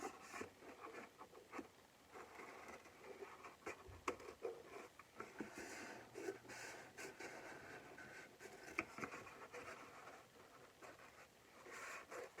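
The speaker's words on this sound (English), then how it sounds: "take my scissors and I'm just going to carefully cut" Scissors cutting down the middle of craft material for a Thanksgiving turkey wreath, giving quiet, irregular snipping and scraping strokes that run close and soft throughout.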